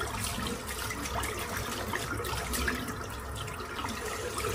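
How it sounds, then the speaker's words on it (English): Water runs steadily from a tap while a shaving brush is rinsed, a soft continuous splashing hiss at moderate distance with no talk. "Just rinse the brush"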